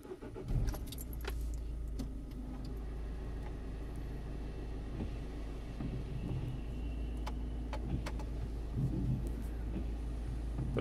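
A Citroën C4 with a 9HY engine, freshly fitted with a new timing belt, turbo and injectors, idles with a steady low hum, close by and fairly quiet, with occasional faint clicks and ticks on top.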